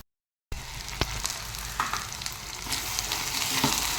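Raw plantain pieces frying in a pan, a steady close sizzle broken by scraping clicks as they are stirred, starting after a brief silence.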